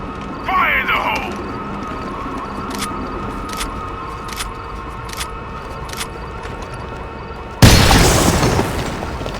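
A grenade goes off in the tactical shooter Rainbow Six: Vegas, one sudden loud boom near the end with a broad crashing burst that lingers and fades, after quieter gameplay ambience, mechanical clicks and a brief shout.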